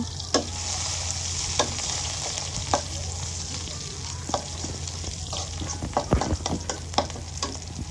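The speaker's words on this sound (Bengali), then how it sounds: "পেঁয়াজ তো এখন আমি ভালোভাবে নেড়ে ছেড়ে নেব" Onions sizzle steadily in a hot pan while a spoon stirs them, with sharp scraping clicks at irregular intervals and a quicker cluster of strokes toward the end over a constant frying hiss.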